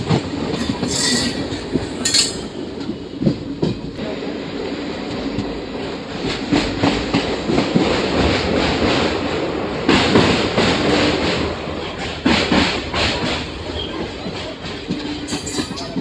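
A passenger train on the rerouted Narasapur–Vijayawada line, near Bhimavaram Town station, rumbles loudly along the rails with rhythmic clickety-clack wheel beats and intermittent high wheel squeals throughout, with no voices.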